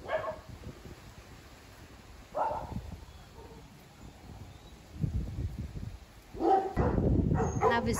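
Several dogs bark loudly in a wealthy residential neighbourhood on the Caribbean island of Curaçao, with bursts of barking and yips scattered through the clip, the loudest and densest cluster near the end.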